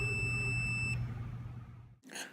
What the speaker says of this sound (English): we should be able to touch the two probes together and get a ringing sound.